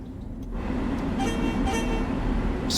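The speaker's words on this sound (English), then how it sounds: "Such a nice horn." A Metro North M3 commuter train's horn in Train Sim World 3 sounds one long, deep, sustained blast that starts after a brief lead-in of rumbling train noise and holds to the end.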